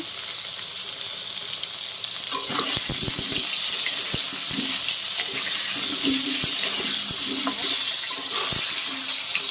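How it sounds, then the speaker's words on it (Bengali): Potatoes frying in a pan with salt and turmeric give off a loud, constant sizzle, with a utensil knocking and scraping at intervals as they are stirred. "একটু লবণ আর অল্প একটু হলুদ দিয়ে আলুটা ভেজে নেব।"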